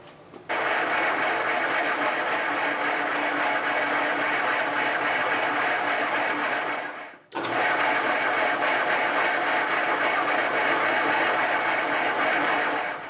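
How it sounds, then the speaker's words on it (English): Sanding a compensated nut for a hard-tail Stratocaster guitar: a steady, loud whirring grind runs for about seven seconds, cuts out briefly, then starts again at the same level. "We're ready to sand again."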